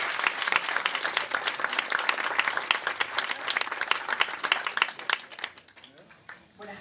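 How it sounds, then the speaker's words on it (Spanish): Warm audience applause at a Paraguayan short-film premiere festival, dense clapping that holds steady for several seconds and then thins out and fades toward the end, with some voices mixed in among the crowd. "Un aplauso para ella."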